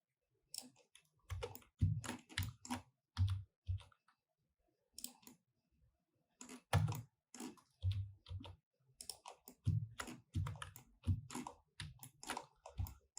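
Computer keyboard typing and key presses in Blender modeling software, close clusters of sharp clicks in irregular bursts with short pauses between.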